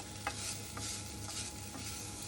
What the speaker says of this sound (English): just stirring it around and making sure it doesn't burn